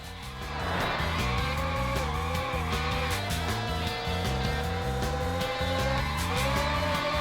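Car tires squeal in a long drifting skid in the arcade racer OutRun 2006: Coast 2 Coast on PlayStation 2, a sustained screech over a steady engine drone and backing music, continuous for several seconds.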